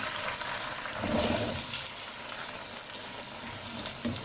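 Potatoes fry with golden onions in hot oil, a close, continuous crackling sizzle that swells briefly and then settles; no voices.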